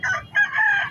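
A Heera-breed rooster crows once at a Sunday bird market in Lalukhet, a short nearby call that pauses briefly and then carries into a longer drawn-out note, with no talk over it.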